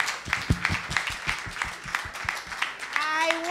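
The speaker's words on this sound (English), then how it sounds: "Round of applause." A conference audience claps in a scattered, rhythmic burst of applause, fairly close, with a brief voice rising at the end.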